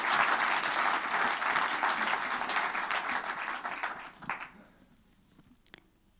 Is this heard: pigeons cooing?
no